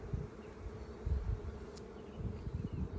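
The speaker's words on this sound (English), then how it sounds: "Starting to get a little bit more bees on this one." Honey bees hum steadily around an open hive during a spring inspection, a low continuous buzz with small surges as individual bees pass close to the microphone.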